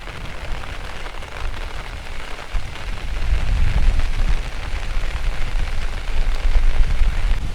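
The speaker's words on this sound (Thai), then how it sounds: "ฝนตกสำใด" Steady heavy rain pours across a rainy-season mountain viewpoint, a dense continuous wash that swells slightly louder midway through, with no voices.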